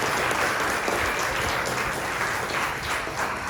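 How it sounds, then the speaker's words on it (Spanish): A church congregation claps in praise, a dense and loud wash of applause that stays steady for a few seconds with no voices over it. "Démosle un aplauso al Señor por eso, porque Él se lo merece."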